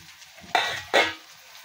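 Mixed dal of lobia, rajma, peas and urad gets a hot tadka tempering: two loud bursts of sizzling and stirring, each starting sharply and fading over a fraction of a second, close by with no talk.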